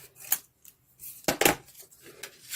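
Scissors snip through craft cardstock for a handmade greeting card at a table, a few close, crisp cuts with a couple of sharper clicks and quiet gaps between them.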